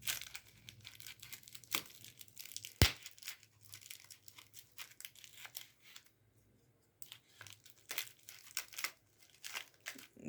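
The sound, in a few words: cutting open Kapiva honey packaging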